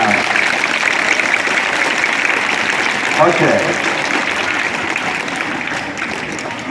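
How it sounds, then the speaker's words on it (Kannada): A school retirement-function audience in Karnataka claps loudly and steadily at close range, a dense sustained ovation that stays full throughout, with a brief spoken word over it. "ಜೋರ ಚಪ್ಪಾಳೆ"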